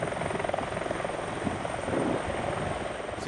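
A fire brigade helicopter flies over a river, its steady rotor chop loud and continuous throughout with no voices.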